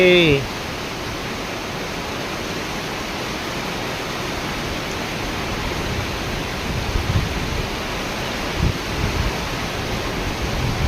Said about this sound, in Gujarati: બહુ ખતરનાક પાણી પડી રહ્યું છે